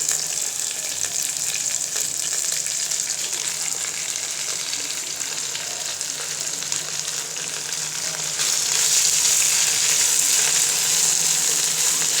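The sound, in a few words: jute leaves added to fried onion and garlic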